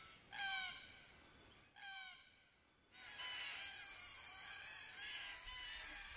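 Cockatoos in a flock feeding in a peanut field in Queensland's Atherton Tablelands give two harsh, rasping calls, then a dense wash of many overlapping screeches fills the air at moderate distance.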